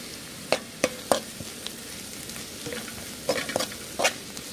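Shredded cabbage frying in a pan for veg momos, stirred with a utensil, a steady soft sizzle broken by several sharp scraping clicks against the pan.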